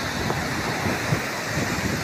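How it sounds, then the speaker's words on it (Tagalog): Big sea waves surging near the shore at Burias, heard as a steady, loud wash of surf mixed with gusty wind buffeting the microphone, continuous with no clear breaks. "Grabe yung alon, ang lalaki ng alon dito."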